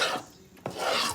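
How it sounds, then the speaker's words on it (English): A spoon scrapes and rasps through thick homemade playdough mixture in a pot, two long rough strokes close by with a short pause between them and no talking. "You have to make sure you keep stirring or your mixture will burn."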